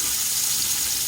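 Onion slices frying in hot oil for degi-style chicken biryani, a steady close sizzle that holds evenly and loud throughout the short stretch with no voice over it.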